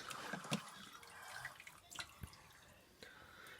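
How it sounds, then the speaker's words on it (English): Water drips and splashes in small irregular bursts as a toddler squeezes a wet cloth, close and quiet, with some faint murmuring voices nearby. "You've got to squeeze it, Babs, to get all the water out"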